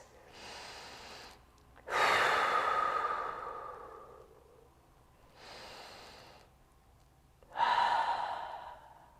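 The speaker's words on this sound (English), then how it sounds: "Take a big breath in and out for a few breaths" Deep breaths taken slowly during a stretching routine: three long, loud exhales or inhales, each followed by a quieter pause, close to the microphone.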